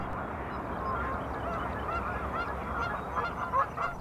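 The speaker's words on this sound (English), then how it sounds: "The geese, of course, were making as much noise as possible" A flock of geese honks continuously, many overlapping calls at moderate distance, steady and noisy throughout.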